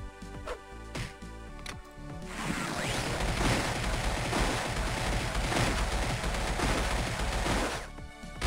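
Tanks open fire in a Dragon Ball Z: Buu's Fury Game Boy Advance game: after a few sharp blips comes a dense, continuous barrage of crunchy retro gunfire and blasts, loud and unbroken for several seconds.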